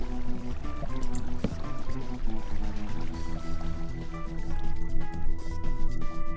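Flowing water in Minecraft makes a steady, continuous trickling wash beneath soft tonal game music, moderately loud throughout.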